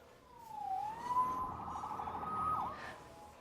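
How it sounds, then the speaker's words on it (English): In a Spider-Man Remastered video game, a police siren wails in a single rising and falling sweep, moderately loud over a low background rumble. "Saved by the siren."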